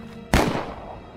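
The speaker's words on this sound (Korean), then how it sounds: "그때 문 밖에서 총소리가 울려 퍼졌고" A single sharp gunshot sound effect in a Korean horror audio drama, one sudden loud crack against a low droning background, followed by a decaying boom and reverberant tail.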